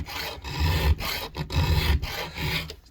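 Hand file rasping at the gullet of a chainsaw chain clamped in a vise: steady rhythmic back-and-forth strokes, close and fairly loud, with brief gaps between passes and no voices.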